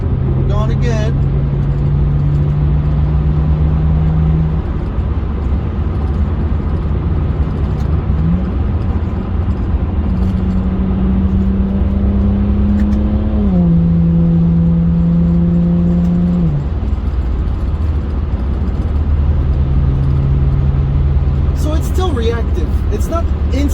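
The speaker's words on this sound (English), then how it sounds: "I want to go left, 4th gear, 3000 RPM." A BMW E90 335i with a ZF6 transmission accelerates hard in 4th gear, its loud engine drone rising steadily in pitch with brief dips at shifts, heard from inside the cabin.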